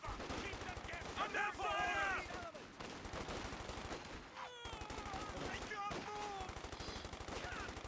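Thompson submachine gun firing in Company of Heroes 2, rapid automatic bursts rattling continuously beneath other battle sounds and a talking voice.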